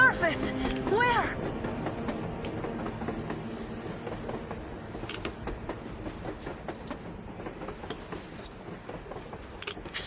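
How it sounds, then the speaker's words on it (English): Train passing across the surface in the Metro Exodus video game, a rumbling, clattering roll of rail wagons heard at a distance under music and game effects, fading slightly as it goes. "A train! A damn train on the surface!"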